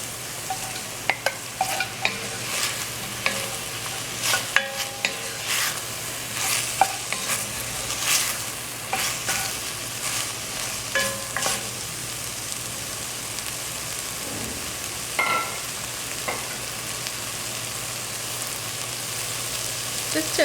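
Okra being stirred in a pot for a West Indian callaloo, giving a steady soft sizzle with scraping and clinking of the spoon against the pot, close and alone without talk.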